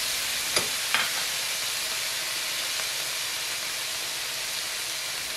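Vegetables stir-frying in a frying pan as soy sauce goes in, a loud continuous sizzle and hiss with two brief sharp clicks of the pan or utensil near the start, no voices.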